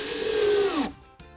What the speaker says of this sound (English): I'm going to fasten the final side of the back piece. 2 screws to go in here.